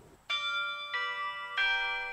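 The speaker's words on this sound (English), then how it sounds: "The UNK Bell Tower chimes 10 times a day." Bells of a campus bell tower chime three times in succession, each ring a bright, sustained metallic strike with ringing overtones, heard alone and fairly clear.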